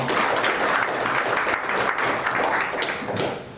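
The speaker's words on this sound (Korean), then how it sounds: "박수로 환영해 주시기 바랍니다" A seated audience at a policy discussion forum claps to welcome a speaker to the podium, a dense steady burst of applause that tapers off toward the end.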